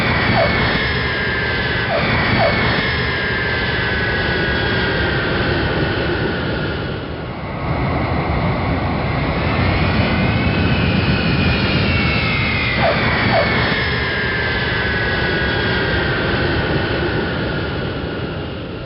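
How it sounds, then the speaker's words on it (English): Southwest Airlines jet airliner touching down on a runway, a loud continuous jet engine roar with shifting whine, dipping briefly midway then swelling again, steady throughout with no voices. "The plane coming down slowly finally lands safely on the runway."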